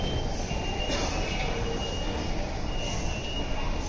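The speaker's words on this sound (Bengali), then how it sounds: "এটা হচ্ছে চায়না মেট্রো, মানে আমি আছে চেংদু মেট্রো।" Chengdu metro train in China running underground, a steady loud rumble with rail noise and a faint squeal, continuous throughout with no talk.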